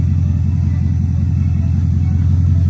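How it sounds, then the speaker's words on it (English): Idling V8 of a 1983 Euro Mercedes 380SEC coupe with a small exhaust leak, a loud steady low rumble with a fast even pulsing throb, close and continuous. "It has a little bit of an exhaust leak."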